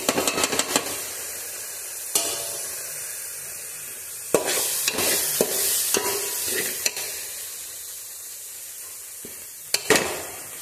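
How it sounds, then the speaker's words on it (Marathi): Spices and millet flour roast in oil in a pan while a spoon stirs them, giving scattered scraping clinks and knocks over a soft, steady sizzle, with louder bursts of stirring near the middle and the end. "आता हे सर्व मसाले एक 2 ते 3 मिनिटांसाठी छान भाजून घ्यायचं तेल सुटेपर्यंत."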